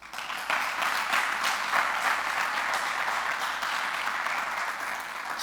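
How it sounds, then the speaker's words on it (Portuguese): Congregation in a church clapping steadily and densely for several seconds, a sustained wash of applause from the whole room with no voices standing out. "Em nome de Jesus, dá um aplauso aí."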